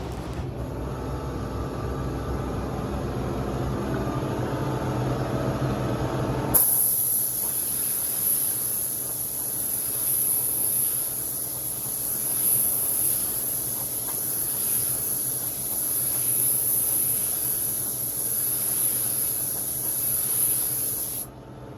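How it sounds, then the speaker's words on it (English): A spray gun hisses steadily at close range as it lays clear coat onto tumbler cups in a booth, a continuous bright airy spray broken only by slight swells, following a stretch of lower machine noise. "I like spraying really tight, so I'm probably 4 inches off of the cup when I'm spraying these."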